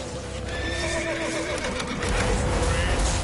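A horse whinnies in The Witcher 3 amid hoofbeats, clattering action and loud game noise, the neigh mid-level against a busy background.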